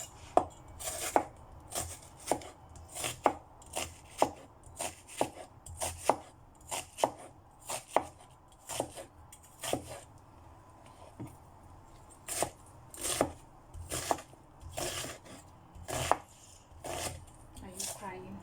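Knife chopping onion on a cutting board while making a fresh tomato and onion sauce, a run of sharp, close, fairly steady strokes in uneven bursts, with no talking.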